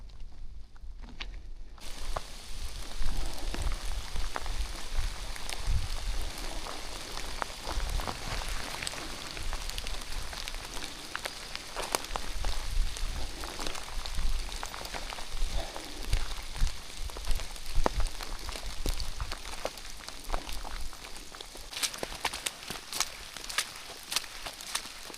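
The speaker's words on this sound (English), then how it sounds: "Well, it's still raining." Steady rain falls on a forest hiking trail on the Appalachian Trail in Georgia, a dense continuous patter with scattered nearby drips and soft footstep-like taps, fairly quiet and without talk.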